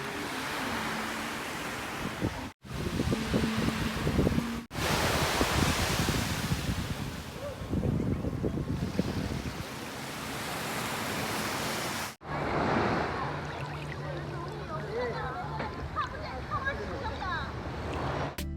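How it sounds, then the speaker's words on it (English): Waves wash on a tropical beach on Perhentian, Malaysia, a broad rushing surf mixed with wind noise on the microphone, interrupted by brief cuts, while a person talks over part of it. "The beach is so beautiful and the weather is so nice."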